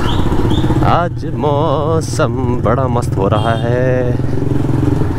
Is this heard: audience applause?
no